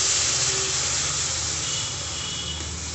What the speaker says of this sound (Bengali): এবার আমি আস্তে আস্তে এর মধ্যে সেই দুধটা দেব।